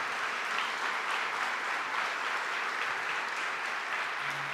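A conference audience at an education and artificial-intelligence event breaks into applause, a dense, steady clapping that fills the room at even loudness for several seconds without letting up.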